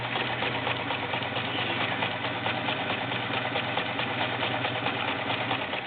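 A vintage Kenmore model 1802 sewing machine stitching fabric in a stretch stitch, its motor humming with a steady, rapid mechanical chatter that runs continuously, close and fairly loud, with no voices.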